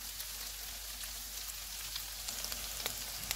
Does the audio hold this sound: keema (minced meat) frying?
yes